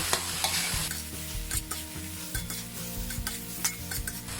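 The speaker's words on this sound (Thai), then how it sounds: "เอาละค่ะ ผัดให้เข้ากันเลย" Steady sizzling and stirring of okra with shrimp paste and minced pork in a hot pan, with repeated scraping and clinks of a utensil against the pan.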